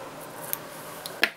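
Scissors snipping thread at a fly-tying vise, a few small, crisp metallic clicks, the last one slightly sharper, faint and close over a low room hiss.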